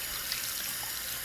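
Tap water runs steadily into a sink as a makeup sponge is rinsed, giving a constant, close hiss and splash with no talking.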